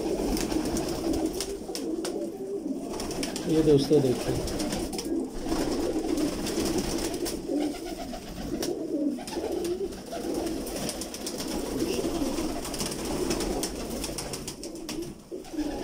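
Pigeons coo steadily throughout, a low rolling, throaty murmur from several birds close by, with a brief spoken remark near the start.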